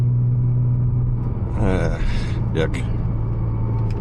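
A 700hp Porsche Cayman 987 Turbo driving at night gives a steady, loud, low engine and road rumble heard from inside the cabin, with a person briefly speaking over it.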